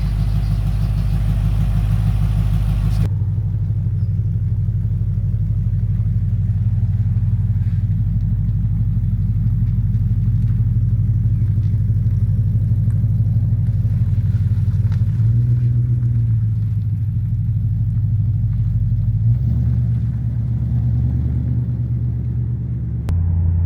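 A Ford 5.4 V8 BA XR8 Falcon fitted with an aftermarket big-mouth air intake on a test drive: a loud broadband rush gives way to a deep continuous engine drone whose pitch shifts twice as it changes pace, with no talking.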